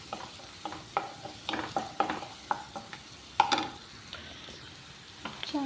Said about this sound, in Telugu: మంచిగా అంతా కలిసేలా వేయించుకోవాలంటే బాగా వేగే వరకుని.